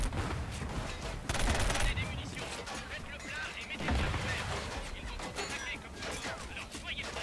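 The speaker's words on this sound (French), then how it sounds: "il me démonte les panneaux là où je suis caché là" Heavy gunfire tearing apart cover panels in the first-person shooter Killzone Shadow Fall: dense, continuous bursts of shots and metallic clatter with crashing impacts, fairly loud and busy throughout.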